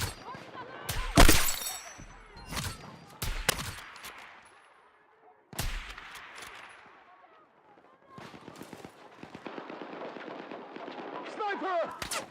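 Sniper rifle fire in a video game: several loud, sharp gunshots in irregular bursts with echoing tails, followed by a stretch of denser, busier game noise.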